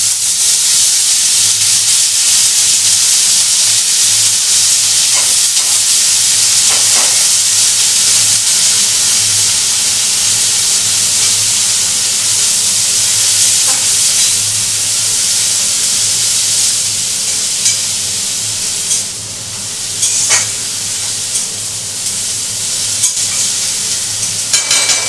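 Amaranth greens (data shak) dropped into hot garlic oil sizzle and hiss loudly and steadily throughout, a dense close frying roar with faint stirring clatter and no talk.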